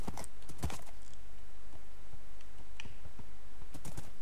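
A horse walks in the video game Minecraft, giving a few sparse, irregular soft clops against a quiet background.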